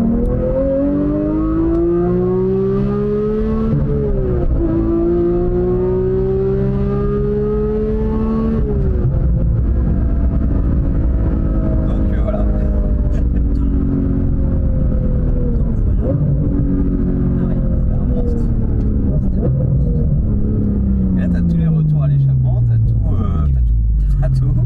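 Porsche 991 GT3 Touring with its exhaust valve open, the engine revving hard in repeated climbing and falling sweeps, loud and close, with a voice talking over it in places.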